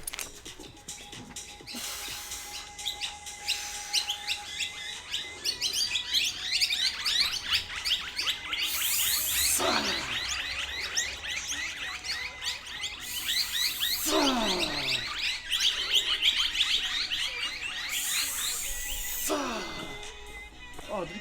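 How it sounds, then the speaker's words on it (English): Many birds chirp and tweet loudly outdoors in a dense, continuous chorus of rapid calls, with a few bursts of broadband rustling noise rising over the song. "The birds are going off."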